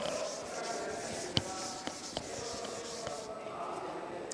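A pen scratches steadily across paper while load calculations for a bolted roof truss are worked out. The soft, continuous rubbing is close and quiet, with a few light taps and no talking.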